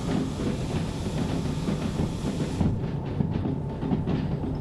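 Train braking in the Derail Valley simulator game: a steady loud rumble of rolling stock, with the upper hiss cutting off partway through and low clanks continuing as the train slows.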